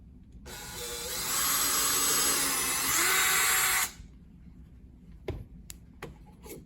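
A power drill runs steadily for about three and a half seconds, boring a pilot hole through a wooden tic tac toe lid, its whine rising in pitch partway through and then cutting off, followed by a few light knocks and clicks.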